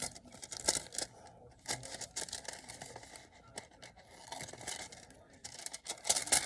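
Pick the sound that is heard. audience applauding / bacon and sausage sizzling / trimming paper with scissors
trimming paper with scissors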